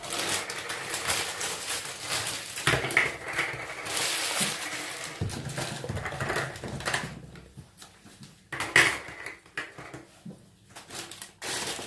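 Bottle tops being pulled from a container clatter and rattle in busy, irregular bursts throughout, with brief sharper clicks, during preparation of an emulsified sugar scrub alongside 91% rubbing alcohol.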